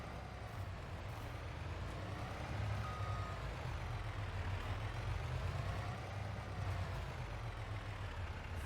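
A truck in Farming Simulator, set in the Upper Mississippi River Valley, turns into a farmyard with a quiet, steady low engine drone that rumbles on without a break.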